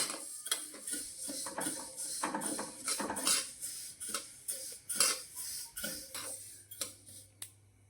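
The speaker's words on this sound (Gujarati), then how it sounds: "હવે આપણે આને ધીમા ગેસે શેકી લેવાના છે આવી રીતે આપણે તલને શેકી લઈશું" Sesame seeds roast in a pan over a low gas flame, giving faint scattered ticks and light scraping clicks of stirring at an irregular rhythm, with no talk.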